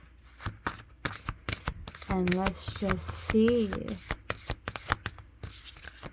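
A deck of cards being shuffled by hand, with crisp riffling and tapping bursts near the listener, under a voice that talks and hums in the middle.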